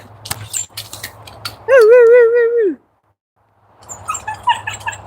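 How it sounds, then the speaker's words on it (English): A dog lets out one drawn-out, wavering whine, loud and close, that rises and then drops away before fading into silence; rustling background noise comes before and after it. "That damn whining."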